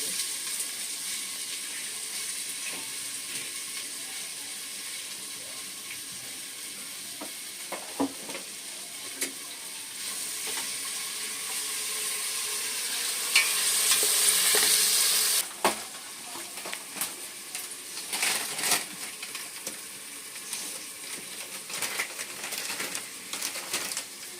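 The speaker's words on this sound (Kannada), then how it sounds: "ಎಣ್ಣೆ ಬಿಸಿ ಆಯ್ತು ಇವಾಗ ಈರುಳ್ಳಿ ಹಾಕೊಳ್ತಾ" Onions hiss and sizzle as they fry in hot oil for chicken sambar, a steady crackling sizzle with occasional stirring scrapes and a louder surge midway, birds faintly audible in the background.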